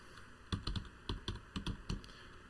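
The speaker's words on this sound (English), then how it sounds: "I'll quickly type up Australia now" Quick bursts of typing on a computer keyboard, close and fairly quiet, with about a dozen crisp key clicks in uneven clusters.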